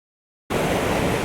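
A waterfall and river rush after a sudden start, a loud, steady broadband roar of falling water heard close by, with no voices.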